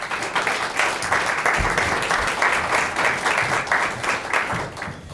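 An audience at a school Black History Month celebration claps in sustained, even applause that stays dense and fairly loud for five seconds, with many hands blending into a steady roar.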